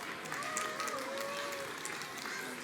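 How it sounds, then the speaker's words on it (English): Applause from an audience at a science festival talk as a professor is welcomed to the stage, a steady broadband clapping wash with a voice calling over it. "keep that round of applause going"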